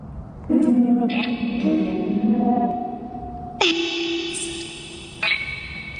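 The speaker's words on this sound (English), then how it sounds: "Nothing is coming out clear from that fucking thing with the amount of reverb stacked on it." Electronic tones and voice-like fragments from a ghost-hunting device, drenched in heavy reverb and echo, swell and hold in long smeared bursts of moderate loudness, with shifting pitched layers that cut in and out.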